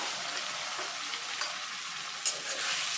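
Continuous hissing sizzle of a ground spice paste frying with onions in a pan for egg curry, with faint scraping from stirring and a brief clack near the end.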